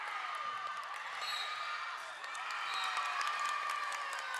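Applause and scattered cheering ripple through a gym crowd at a high school volleyball match between Seaside and Banks, steady hand-clapping sustained for several seconds at moderate volume.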